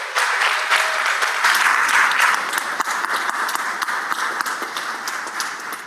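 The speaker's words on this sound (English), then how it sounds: "So let's please give them a round of applause and make them feel welcome to the Capitol" Senators and guests in the Mississippi Senate chamber at the Capitol give a loud round of applause. Dense, crisp clapping with distinct individual claps holds steady and eases off slightly near the end.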